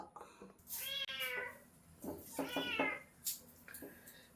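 A cat meows several times up close, drawn-out cries separated by short pauses, with some soft background noise.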